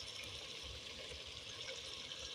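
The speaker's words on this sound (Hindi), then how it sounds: "तो इसमें पानी डाल देते हैं" Water pours into a pan of fried desi chicken as a salan curry is started, making a faint, continuous trickling splash with no talking.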